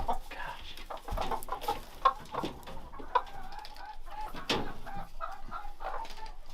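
Hens on an off-grid homestead cluck and murmur in a steady, close chatter, with a few sharper squawks breaking through and no one speaking.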